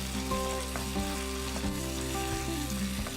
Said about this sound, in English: I do need to cook out the pesto a little bit